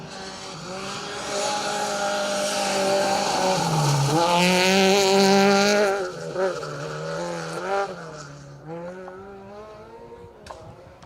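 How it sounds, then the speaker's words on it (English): A Peugeot 208 rally car charges along Welsh forest gravel, its engine loud and close with rising and falling revs, a brief tyre skid, then fading slightly as it passes through. "Peugeot coming in hot"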